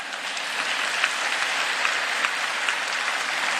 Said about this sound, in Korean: 이 두 사람 한번 축복하며 박수해 주시기 바랍니다.